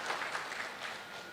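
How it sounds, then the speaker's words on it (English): Audience applause at an international academic conference, a brief burst of scattered clapping from a moderate crowd, fairly faint and roomy. "can we give a round of applause first"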